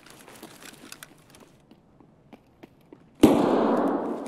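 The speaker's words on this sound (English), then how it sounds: "Someone just shot me with a shotgun." A shotgun blast in Escape From Tarkov, one loud sudden boom with a long decaying roar, following a stretch of faint clicks and distant small pops.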